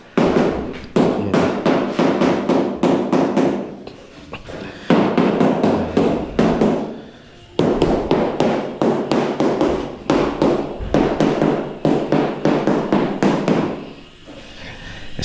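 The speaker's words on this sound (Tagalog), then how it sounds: "Sige Rick, pukpok lang." Hammer strikes during kitchen tile installation by the kitchen counter, loud and close, coming in three long runs of rapid, regular blows separated by short pauses, with no talking.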